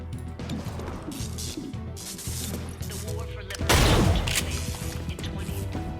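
Gunfire in the XCOM Chimera Squad video game, a loud burst of shots and crashing impact near the middle over game music and effects, with someone talking at times.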